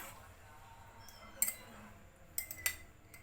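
A spoon clinks against a bowl a few times, sharp and bright, while agar agar and soya cincau are mixed; the clinks sit over a faint steady background with no talk.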